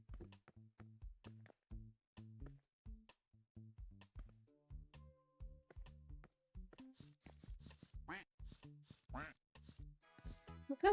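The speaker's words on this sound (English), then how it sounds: "Look how they all just quack on occasions." Colourful ducks quack again and again in short, repeated bursts, with several birds overlapping; the calls stay close and clear, and faint chirps and rustles join toward the end.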